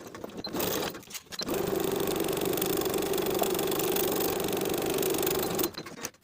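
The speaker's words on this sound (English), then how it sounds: "Sewing with a 1/4 inch seam allowance, sew one short end and the long edge." A sewing machine runs steadily for several seconds, stitching a tie piece for a pintuck poet blouse with a quarter-inch seam, a close rapid whirring hum with brief handling clicks before and after.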